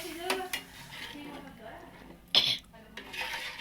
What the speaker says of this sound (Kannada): ಫುಲ್ಲು ನೀಟಾಗಿ ಮಿಕ್ಸ್ ಮಾಡಬೇಕು